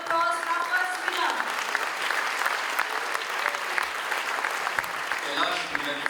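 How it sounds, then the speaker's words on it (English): An awards ceremony crowd applauds the first winner at a health awards event, with steady, full clapping throughout and faint voices and tones mixed in near the start. "Big round of applause for our first winner."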